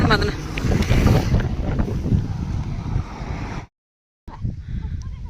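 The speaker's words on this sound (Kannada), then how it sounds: "ಗಾಳಿಗೆ ಗಾಳಿ ಭಾಳ ಐತಿ" Strong wind roars and buffets the microphone on the hill of the Yellamma temple, a loud continuous rush that cuts out briefly before returning with faint voices behind it.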